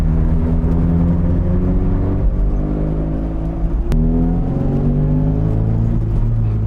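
The engine of a 1987 Austin Mini 1000 revs loud and close, its pitch rising and falling through repeated climbs with a steady droning rumble underneath.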